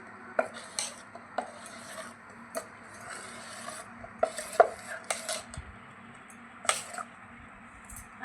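Batter being mixed with a little added water in a bowl for a protein-rich snack, heard as a low continuous scraping and rubbing with scattered sharp clinks of a spoon against the bowl, fairly quiet and close, with no talking.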